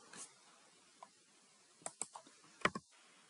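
Computer keyboard typing while labelling an ohmmeter in a circuit simulation, a few sparse soft key clicks with a short cluster near the end, quiet and close, no talking.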